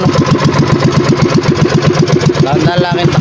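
A fishing boat's engine runs with a fast, steady chugging pulse, loud and close throughout, with a brief higher rattle near the end.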